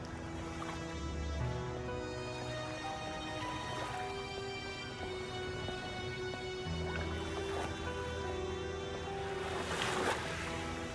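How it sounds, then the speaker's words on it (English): Calm open water laps and washes steadily in a video game setting on a space station, a soft continuous swell with faint tonal ambience layered over it and no voices. "The water is calm and peaceful, with the occasional creature disturbing its tranquility."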